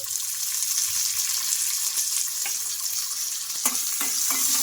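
Chillies and curry leaves sputter in hot oil as chopped tomato pieces go in, a continuous hissing sizzle with faint stirring taps and one sharper clatter near the end, close by and without speech.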